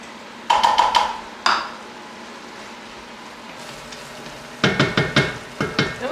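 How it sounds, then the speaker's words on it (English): A utensil scrapes and taps in a pan of flour cooking over heat: quick bursts of rhythmic scraping strokes, a pause with a soft frying hiss, then another run of strokes, close and fairly loud. "I always want to stir this and keep it going because you don't want your flour to burn."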